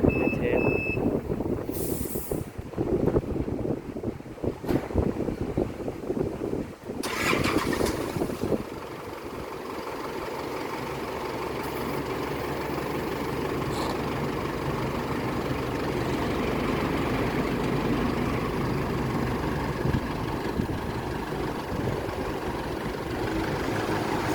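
A truck backs up with a few high electronic reversing beeps early on over its rumbling engine, which then carries on as a steady idle.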